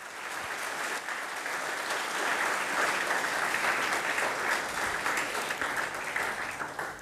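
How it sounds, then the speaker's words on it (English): Audience at a school debate event applauds the judges: dense, continuous clapping that swells slightly in the middle and holds steady and fairly loud to the end. "Let us give a round of applause for our judges."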